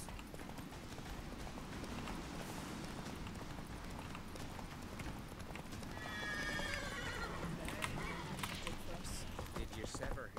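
Game horse hooves gallop in The Witcher 3 on Skellige, a continuous rapid clip-clop rhythm with a whinny partway through, heard alongside game ambience and occasional speech.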